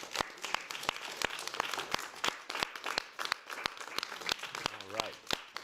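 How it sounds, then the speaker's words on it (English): A room applauding an honoree at a New York City event, brisk sharp claps with a lively rhythm that run throughout, with a voice speaking briefly over them near the end. "Let's give Hazel another round of applause."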